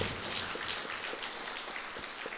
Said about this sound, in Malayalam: നമുക്ക് ഉച്ചത്തിൽ കൈയടിച്ച് ഈശോയ്ക്ക് നന്ദി പറയാം